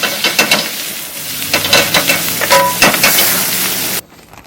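Green onion and tomatoes hitting a hot pan, loud close sizzling and frying with stirring and scraping bursts, cutting off abruptly near the end with no talking.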